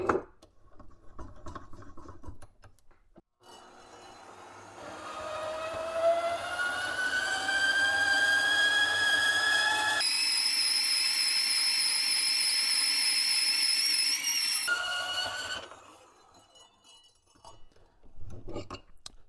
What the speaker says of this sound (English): Here's a piece of 1-inch solid bar,